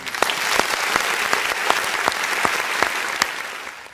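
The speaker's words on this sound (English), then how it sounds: "Please join me in giving them a round of applause." Audience applause at a 2020 high school graduation ceremony: a dense, steady round of clapping from a large crowd, with a few sharper individual claps standing out, sustained for several seconds.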